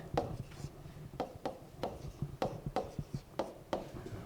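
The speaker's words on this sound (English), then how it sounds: "So I'm going to kind of write this out with more space." A pen or marker writes out a rational-expressions math problem, with a rhythmic series of quick scratchy strokes and taps, close and fairly quiet, no talking over it.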